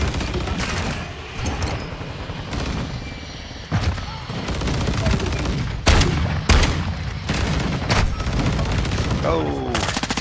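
Call of Duty MWII gunplay: repeated loud shotgun blasts and bursts of rapid gunfire crack out in irregular clusters, some close and sharp, others more distant, with muffled game chatter underneath.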